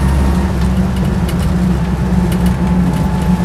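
A Land Rover Lightweight rumbles along at a steady, fairly loud pace, its engine droning with a low continuous roar and faint rattles heard from close by, no voices present.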